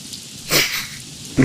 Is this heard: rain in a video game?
yes